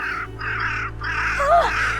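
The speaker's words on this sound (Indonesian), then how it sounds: "Pergi kalian gagak sialan!" Crows cawing in several harsh, drawn-out calls, loud and close, with a faint steady background hum.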